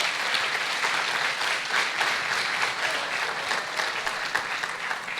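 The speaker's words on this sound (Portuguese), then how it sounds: "Pode aplaudir o Senhor Jesus" A church congregation claps in sustained applause to praise Jesus during an evening service. The clapping is steady and dense throughout, with no speech over it.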